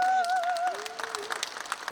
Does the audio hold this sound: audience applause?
yes